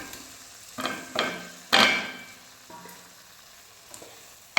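Boiled baby corn hits hot oil, giving several separate bursts of hissing sizzle, the loudest near the middle, each fading back into a low, steady frying crackle, with no voices.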